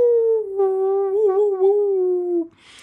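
A man imitates a dog howling, one long drawn-out wavering howl, loud and close, lasting a couple of seconds before cutting off.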